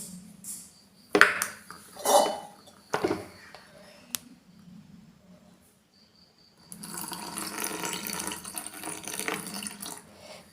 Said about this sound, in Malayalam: ഇനി നമുക്ക് ഇതിലേക്ക് കുറച്ച് പാലും കൂടി ആഡ് ചെയ്യാം